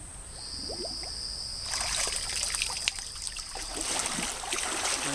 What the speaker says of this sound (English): What we're going to do is drip it into the river here